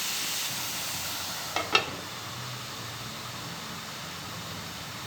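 Onions sautéing under a lid in a covered pan, a low, even sizzle and hiss that holds steady, broken once by a couple of quick metallic clicks, with no one talking.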